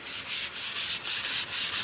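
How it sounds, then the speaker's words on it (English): Rhythmic sandpaper rubbing on wood, about eight even back-and-forth strokes, close and steady with no talking. "I'm sanding it so it'll get smooth."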